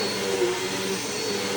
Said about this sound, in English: It's not the quietest vacuum, but it's also not the loudest.